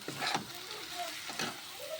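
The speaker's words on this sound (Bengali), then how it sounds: "গাজর আলু আর কাঁচা লঙ্কা পেঁয়াজ দিয়ে এখন তেলে ভাজছি" Carrot, potato, green chilli and onion frying in hot oil in a home kitchen, a soft steady sizzle with occasional stirring scrapes, fairly quiet throughout.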